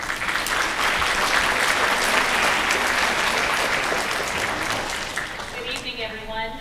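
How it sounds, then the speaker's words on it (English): Sustained, dense applause with cheering fills a school district event hall for several seconds, loud and steady before tapering off as a voice begins to speak. "that was quite a cheer"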